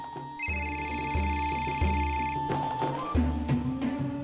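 A telephone rings close by in repeated electronic bursts, a steady patterned ring tone with no voices over it.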